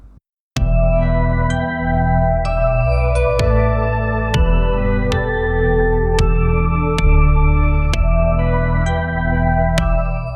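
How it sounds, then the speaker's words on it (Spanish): An AI-generated indie alt rock song from an original, untrained music model, with steady band instrumentation, sharp percussive hits and sustained chordal tones playing throughout. "si le pedís al modelo original una canción indie de alt rock, te genera esto."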